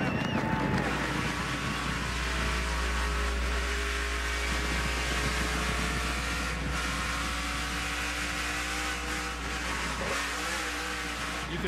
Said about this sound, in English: You could hear the rear tire spinning.